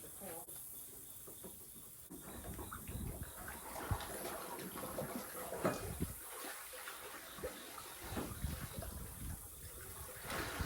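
Water rushes and gushes steadily into a farm tank, a continuous hissing pour with some background talk and movement mixed in.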